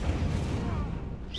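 A fire spell cast in Hogwarts Legacy: a short, dense burst of broadband whooshing flame with low rumble, loud and continuous for about a second, set in the middle of a spell-casting duel.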